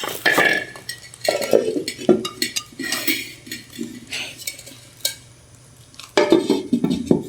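A heavy Indonesian clay cooking pot of fired earth is handled, giving irregular knocks, scrapes and hard clinks that come in bursts with short quiet gaps between, close and fairly loud.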